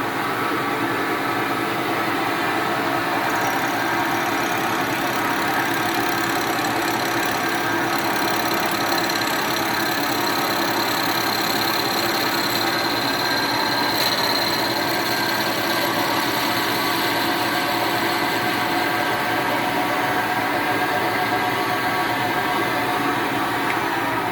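Electric motor of a Ligier Pulse 3 scooter spinning at high revs while its brake pads are trued, a steady continuous whine and hum with broadband grinding noise, loud and unbroken throughout.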